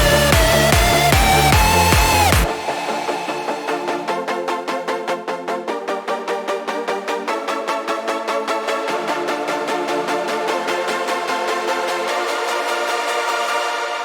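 A bright electronic synth plays a rapid arpeggiated pattern after a brief chordal intro in a hardstyle cinematic break, its filter cutoff gradually opening and brightening as the build-up rises.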